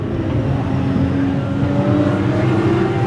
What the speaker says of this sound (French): En piste, la voiture de son père, pilotée actuellement par Panlou, fait le forcing